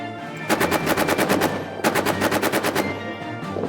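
Rapid machine gun fire from the trench warfare video game All Quiet in the Trenches: two loud, close bursts of fast, evenly spaced shots separated by a brief pause, with no voices.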